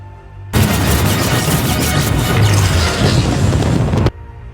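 Loud explosion from a single shot destroying a fleet of spacecraft in a film, a sudden broadband blast that starts abruptly, roars steadily for about three and a half seconds with heavy low rumble, then cuts off.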